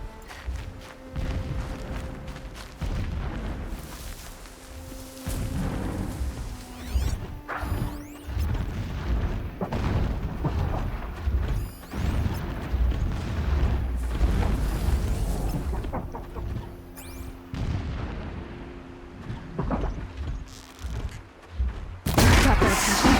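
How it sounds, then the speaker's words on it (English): Repeated booms and crashes of distant explosions roll through a Horizon Zero Dawn game scene on PS5/PS4, layered with sustained rumble and tonal game sounds over about twenty seconds. "explosions in the distance"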